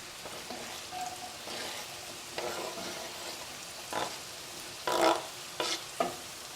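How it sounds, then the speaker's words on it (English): Food sautés in olive oil in a pan, a soft steady sizzle broken by several louder bursts of stirring and scraping, close and fairly quiet. "So we'll fry that, or saute that for a couple minutes."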